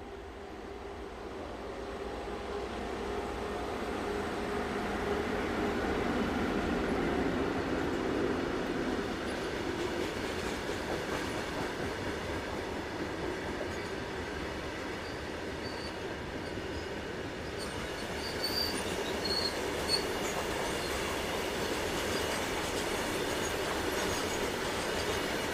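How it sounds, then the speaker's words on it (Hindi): A WAG 9HC electric locomotive hauls a freight train past on a dedicated freight line, producing a long, even rolling rumble of wagons that swells slightly and continues for the whole stretch. "WAG 9HC freight train"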